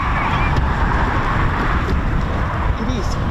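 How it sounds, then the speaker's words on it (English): Strong gusty wind buffets the microphone outdoors at RAF Coningsby, a loud, continuous low roar and rustle filling the whole moment without a break. "It is surprisingly, really surprisingly windy."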